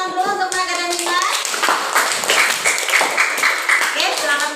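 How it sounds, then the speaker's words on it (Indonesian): Primary school children in an Indonesian classroom clap together in a quick, loud burst of hand claps, while a teacher and children talk over it. "Kita beri tepuk tangan dulu untuk Naga dan Dimas."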